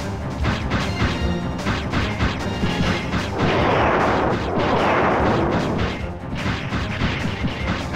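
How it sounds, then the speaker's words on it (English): Heavy booming cannon fire between boats in the video game Mega Man 64, crashing impacts, rapid blasts layered into a dense, loud barrage that swells midway before easing back. "the two boats just lob cannons at each other"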